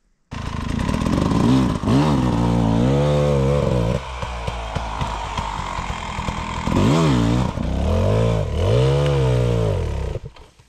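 A Beta 300RR motorcycle engine runs loud and close, its revs swelling and dropping in several sharp throttle blips over a steady idle before cutting off abruptly at the end, with no talking.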